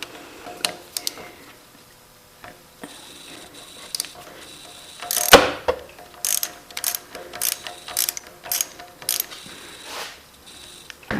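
A socket ratchet loosening bolts on a Can-Am Ryker 900 during an oil change, with sparse clicks, then brisk runs of close, crisp pawl ticking and a sharp metallic clank midway.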